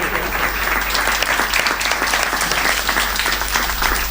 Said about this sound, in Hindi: तुमने ताली 2 पंक्ति पहले बजा दी